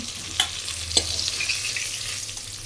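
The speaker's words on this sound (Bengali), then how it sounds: "আলুগুলো লাল করে ভাজা হয়ে গেছে" Potatoes fry in hot oil for chicken kosha, giving a steady close sizzle with a couple of sharp clinks from a spatula or pan early on. Nobody speaks.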